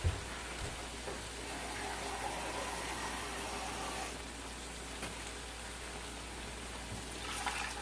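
Water being poured into a pot for fideos with chickpeas and white wine, a steady soft gushing stream running for several seconds at moderate distance, fairly quiet with no talking.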